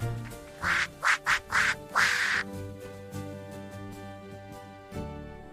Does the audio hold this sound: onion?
no